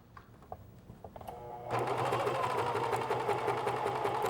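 A sewing machine stitches quilt fabric, starting after a few soft clicks and handling sounds, then running in a steady, fast, close mechanical whir.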